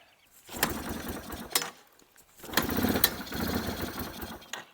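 Yamaha TW200 motorcycle engine just started on choke and running labored, a rough uneven idle that surges in two longer stretches with a sudden drop between them, close and moderately loud.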